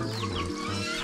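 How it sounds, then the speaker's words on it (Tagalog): Chickens at a farm in Simara, Romblon cluck and murmur in a busy overlapping chorus, close and fairly soft, with no speech. "Mamay Lite, Pinsan Junjun, dami nilang manok"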